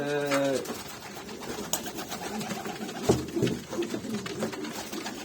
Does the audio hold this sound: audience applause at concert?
no